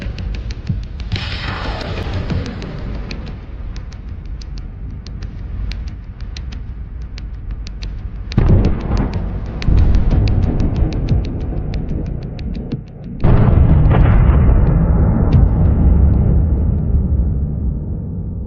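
A drone strike hits a Russian rocket launcher in combat. Heavy, rumbling blasts and roaring bursts sound close, and the sustained low thunder swells sharply at several points.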